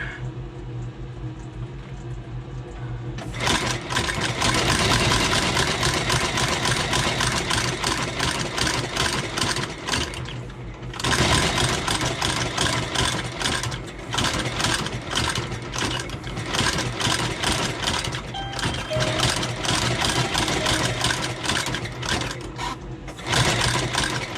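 A sole-stitching machine sews the Goodyear welt of a Thursday Boots boot being resoled with Dainite rubber soles, running in loud, fast rhythmic bursts with a short pause near the middle and a restart.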